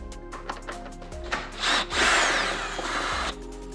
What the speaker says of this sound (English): remove the 10 8mm screws that hold the wheel liner in place